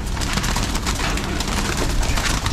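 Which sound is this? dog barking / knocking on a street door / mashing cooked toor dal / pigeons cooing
pigeons cooing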